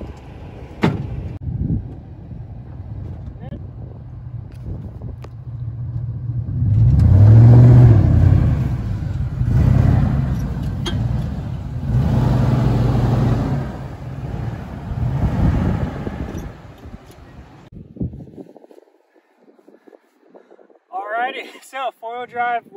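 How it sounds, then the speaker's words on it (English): A truck in four-wheel drive crawls onto traction boards off-road, its engine rumbling and revving in low surges under wind noise, then going quiet before a voice speaks. "put the truck in four-wheel drive, still not air down, kind of see how these traction boards work"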